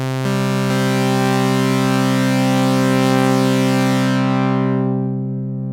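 A Korg Prologue synthesizer plays one sustained, buzzy harmonic-rich note with its filter at zero resonance, holding steady and loud for about five seconds before the upper tones fade away.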